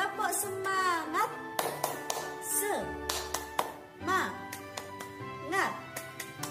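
Children in a second-grade class chant a rhythmic clapping cheer, sharp hand claps punctuating their sing-song voices in a quick, uneven pattern, close and fairly loud.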